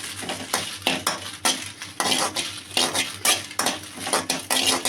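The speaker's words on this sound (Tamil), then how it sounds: "வரமிளகாவை லைட்டாக வர வறுத்துக்கலாம்" Dried red chillies roast and are stirred in a metal pan for idli podi, giving a rhythmic series of close scraping and rattling strokes over a light dry sizzle, with no voices.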